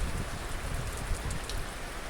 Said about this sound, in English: The rain is settling down a little bit, but this storm does seem to be sitting kind of stationary over Calliope right now.